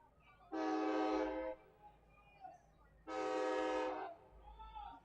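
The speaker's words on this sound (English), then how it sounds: "A train heading by Bossy Field here tonight, making its second pass of the evening." A train passing a ballpark sounds its horn in two long, loud blasts separated by a pause, heard from a distance over low crowd and stadium ambience during an evening baseball game.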